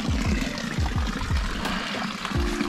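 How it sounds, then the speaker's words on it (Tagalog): Water runs continuously at an old village washing place in Patones de Arriba, a steady close rushing and splashing with soft low thumps throughout. "tuloy-tuloy lang yung pag-agos ng tubig"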